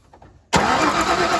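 A Ford 5.8L 351 Windsor V8 is cranked by jumpering the starter solenoid: after a quiet half second, a loud, steady, gritty starter whir cuts in abruptly and holds to the end.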